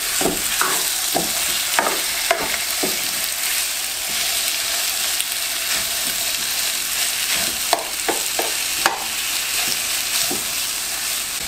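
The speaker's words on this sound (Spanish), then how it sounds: "vamos a esperar que el sartén caliente un poco y agregamos el pollo" Chicken pieces frying in a hot skillet, a steady bright sizzle running throughout with occasional sharper crackles and pops, close and loud, with no talking.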